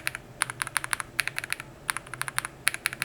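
Brisk clattering keystrokes on a mechanical keyboard fitted with new keycaps, close and fairly quiet, coming in quick irregular bursts with brief pauses, no voices.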